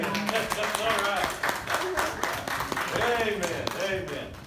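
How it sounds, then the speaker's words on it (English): People clap their hands along to the children's song "If You're Happy and You Know It" at a Sunday morning gathering, a scatter of claps under singing voices. "If you're happy and you know it, clap your hands"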